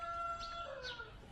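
Chickens kept in boxes, one bird giving short, faint calls over a low background hum, with no voices.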